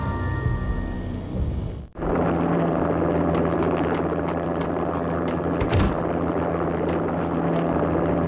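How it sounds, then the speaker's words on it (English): An armed helicopter lands on manor grounds in the video game Max Payne, heard as a loud, steady rotor and engine drone with rumble that fills the clip after a brief break near the start. "An armed helicopter just landed on the manor grounds."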